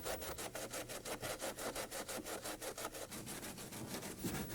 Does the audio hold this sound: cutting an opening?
yes